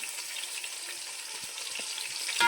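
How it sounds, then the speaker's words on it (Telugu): Sliced onions sizzle steadily in hot oil in a pan for paneer biryani, a close, even frying hiss with a light stirring clink near the end. "ఇదే ఆయిల్లో ఈ ఉల్లిపాయలు మొత్తం బాగా వేయించుకోవాలి"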